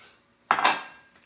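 A utensil stirs food in a dish, giving one short clink and scrape of metal against the dish that quickly fades into quiet.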